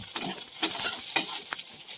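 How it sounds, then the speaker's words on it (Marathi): Okra is stirred in a hot frying pan, giving three or four short scraping stirs with a light sizzle between them, close and fairly quiet, with no talk. "भेंडी चांगली टाकू आता आपण चांगलं भाजून घेऊ"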